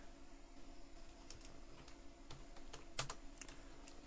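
Fast, light typing on a computer keyboard while entering text into a poster layout, with brief clustered key taps at a quiet, near level and no voices.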